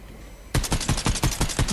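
Rapid automatic gunfire in the video game Fortnite sprays a bush, starting abruptly after a quiet moment and continuing as a close, loud burst of roughly ten evenly spaced shots.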